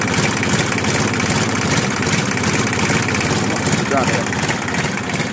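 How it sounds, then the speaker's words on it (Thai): A freshly assembled road roller diesel engine with a newly tuned injection pump runs steadily close by. The idle is a continuous rhythmic chugging throb, and a voice is briefly heard over it. "เสียงเครื่องเงียบมาก"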